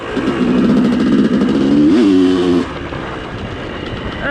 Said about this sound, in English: We are back out on the bike.